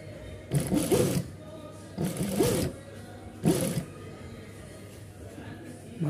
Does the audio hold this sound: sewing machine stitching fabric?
yes